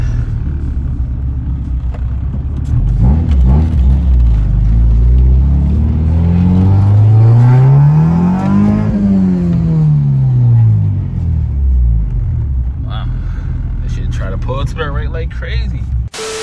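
A Honda Integra engine fitted with a newly installed GSR transmission revs up and back down in one long smooth sweep, loud and close, then settles near idle.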